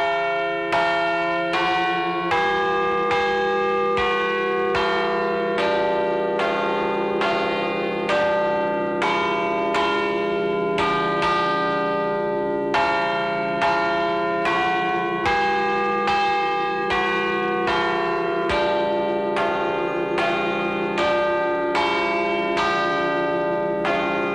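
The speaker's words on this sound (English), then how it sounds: "The sound of these bells, they'll keep ringing long after I'm gone." Church bells at the Marinelli Bell Factory in Agnone ring loudly and continuously, with overlapping rhythmic strikes and a sustained sounding tone throughout, and no voices.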